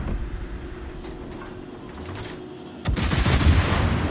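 Warship guns firing armor-piercing shells in World of Warships with a Prinz Eugen cruiser: a steady battle rumble, then a sudden loud salvo and sustained blast noise near the end.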